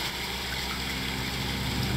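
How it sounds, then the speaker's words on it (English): Water draining in the Nancy Drew game Ghost Dogs of Moon Lake, a steady rushing, gurgling flow that holds constant throughout with no speech. "sounds like the water is draining"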